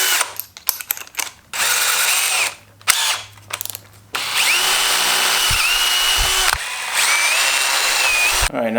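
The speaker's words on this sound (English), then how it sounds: "So let's get a 1/4 inch drill bit." Power drill with a 1/4 inch bit boring a hole for all-thread rod in a budget DIY monopod build, loud sustained whine running in bursts, with short stop-start pulses early on and then long steady runs.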